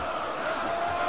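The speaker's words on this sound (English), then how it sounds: "The crowd showing their support for Mirko Cro." A crowd in a UFC Undisputed 3 mixed martial arts game cheers in a steady, dense roar throughout the brief moment, at a fairly loud level with no distinct break.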